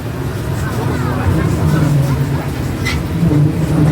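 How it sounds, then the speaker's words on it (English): A truck with barely working brakes rumbles along a winding canyon road, a steady loud engine drone with road noise throughout as people talk over it. "truck that barely has brakes."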